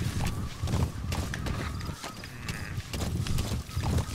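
Rapid clip-clop of galloping horse hooves in Metal Gear Solid V: The Phantom Pain runs steadily throughout, close and fairly loud, with a busy mechanical rattle layered underneath.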